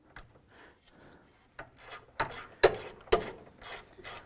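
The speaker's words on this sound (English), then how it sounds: "I'm going to go ahead and tighten down these bolts." A hand ratchet tightens the bolts on the radiator dual cooling fan assembly of a 2001-2007 Ford Escape, giving a few faint scraping clicks and short rasping bursts, close by, with no talking.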